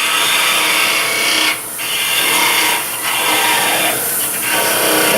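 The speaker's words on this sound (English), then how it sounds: "And just remember when you're parting off that as this gets closer to the center, it's going slower." A parting tool cuts through a wooden ring box spinning on a lathe, a loud, steady rasping scrape broken by three short dips as the cut pauses, with no one talking.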